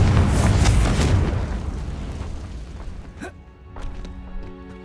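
A Confringo blasting spell explodes in Hogwarts Legacy, a loud, rumbling blast that fades over a couple of seconds into a quieter, tonal in-game ambience.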